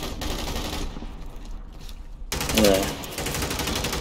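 Gunfire in Modern Warfare III during a hardcore Domination match on the Afghan map, including sniper rifle shots, loud and close with a broad sharp burst partway through, mixed with game noise and a short spoken word.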